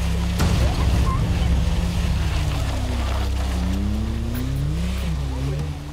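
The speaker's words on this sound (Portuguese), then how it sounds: "Adiante, a Kombi vai costurando ladeira. E onde o motor não dá conta" A Volkswagen Kombi van engine labors up a muddy slope on a rural settlement dirt road, a loud, close low drone whose pitch rises and wavers as the motor strains, with voices audible over it.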